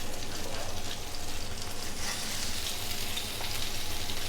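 Mutton chops fry in a pan with a steady, close, crackling sizzle that barely varies in level.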